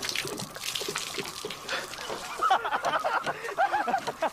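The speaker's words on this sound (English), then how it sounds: "Water." Water trickles and splashes steadily nearby, with small bubbling and dripping sounds, and faint voices in the background.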